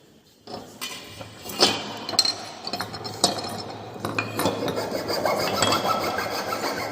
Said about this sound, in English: So we are using a smooth file for smoothing the surface.